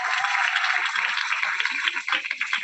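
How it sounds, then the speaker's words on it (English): Audience at a Model UN closing ceremony applauding in a steady, dense round of clapping that fills the whole stretch, with faint voices mixed in underneath. "Have a round of applause."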